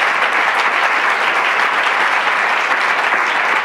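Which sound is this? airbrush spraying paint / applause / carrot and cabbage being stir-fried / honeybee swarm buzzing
applause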